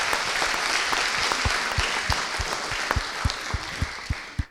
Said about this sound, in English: Guys, clap.